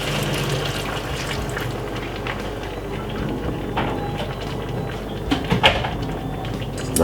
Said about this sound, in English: we're going to pop a little bit of water from my kettle